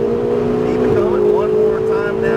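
A Ferrari on a racetrack accelerates hard, its engine droning steadily and rising in pitch throughout, with an instructor's voice speaking over it.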